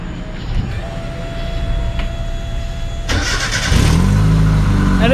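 Cold start of a 1929 Mercedes fitted with a swapped Mazda Miata engine: a starter whirs briefly, then the engine catches and settles into a steady, fairly loud idle up close.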